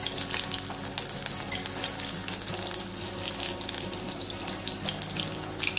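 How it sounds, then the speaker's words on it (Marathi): Green chili bhajji deep-fry in hot oil, bubbling and crackling densely and steadily at close range for several seconds, with no talking. "छान तळून घ्यायचे। कलर थोडासा गोल्डन येऊपर्यंत तळून घ्यायचे।"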